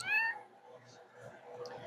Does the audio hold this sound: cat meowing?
yes